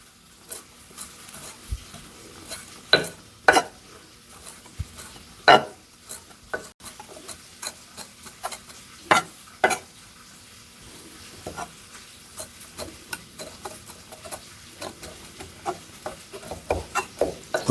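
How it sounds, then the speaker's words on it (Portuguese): Sharp knife taps on a cutting board chopping parsley, irregular strokes close by, some louder than others, continuing through the clip with faint kitchen background. "Tô picando bem aqui a salsinha."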